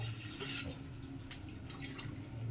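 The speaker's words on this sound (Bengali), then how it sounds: "এই কুকারটা ধুয়ে সামান্য একটুখানি জল দিয়ে দেবো" Water pours steadily into a cooker after it has been washed, while lentils with jute leaves are cooked in a village kitchen. It makes a continuous close splashing wash that runs the whole time without pause.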